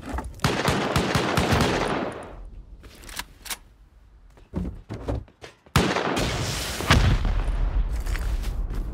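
Video game gunfire as turrets are taken down, with dense, loud bursts of rapid shots and booms, a quieter stretch of scattered single shots in the middle, then heavy sustained fire again.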